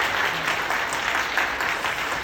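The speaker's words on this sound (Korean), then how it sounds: "박수 한번 해주셨으면 좋겠습니다" A church congregation applauding, steady dense clapping from many hands filling the room, even and sustained throughout.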